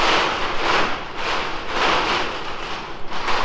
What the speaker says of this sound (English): You can hear it rattling the shutter doors in the background.